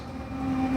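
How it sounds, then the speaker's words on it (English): A passing train rumbles in the distance, a steady low drone with a faint whine that swells louder toward the end. "that's a train right there, by the way."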